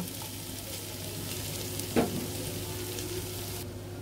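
Vegetables for fried rice sizzle steadily in a hot pan, with a single clattering scrape of stirring partway through and the hiss continuing close up.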